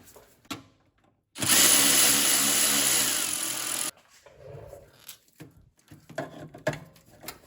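Power tool running steadily for about two and a half seconds while tightening 11mm bolts to remount a Ford Mustang CCRM near the AC manifold, with scattered clicks and handling noises of tools and parts before and after.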